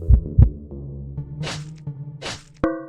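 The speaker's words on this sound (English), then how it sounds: "Hit the heartbeat." Two deep thumping heartbeat pulses open a sound effect from the minimalist roguelike deck builder Heart Sequence, followed by softer whooshing bursts and a sharp tonal chime near the end.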